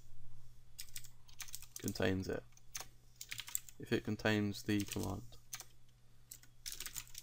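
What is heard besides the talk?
typing on a computer keyboard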